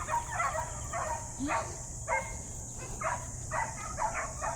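Several short dog barks or yips repeat at a steady pace at a moderate distance, over constant background hiss and hum.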